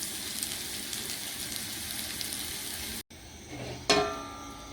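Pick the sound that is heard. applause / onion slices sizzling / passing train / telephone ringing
onion slices sizzling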